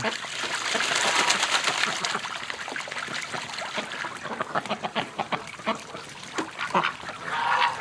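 Geese flying overhead honk in a dense chorus against a rushing, hissy background, with calls overlapping throughout; soft speech-like sounds mix in faintly.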